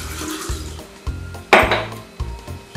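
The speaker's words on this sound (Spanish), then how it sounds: "Echamos toda la fruta, el zumo de naranja" Fruit and orange juice tipped into a jug: clinks of pieces against the vessel, then a brief, louder splashing pour, followed by a few more knocks, close and alone.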